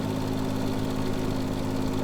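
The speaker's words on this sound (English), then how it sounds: "we just put the revs up, engage the deck, and we mow" A steady, buzzing ride-on lawn mower engine drone in a video game, revs up with the cutting deck engaged while mowing, close and constant, with a rapid mechanical vibration and no pauses or talking.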